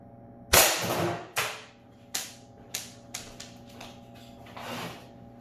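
Shots from an HP68 pistol strike a double-walled steel baking sheet: a series of about six sharp, loud cracks at uneven intervals, each with a short metallic ring, over a low steady hum.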